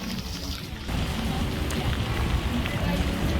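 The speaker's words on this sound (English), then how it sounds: "hopefully this rain will make everything clear out." Steady rain pours down during a storm at an outdoor theme park, a loud, continuous hiss that thickens after the first second and holds without a break.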